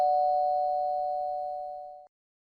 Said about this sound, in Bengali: কলিং বেল দেয়